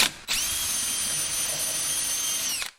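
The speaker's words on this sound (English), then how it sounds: "I'm pre-drilling my holes a little bit bigger than I need" A power drill pre-drilling oversized holes in a butcher block wood countertop, one continuous high whine lasting over two seconds with an abrupt start and stop, loud and close with no talking.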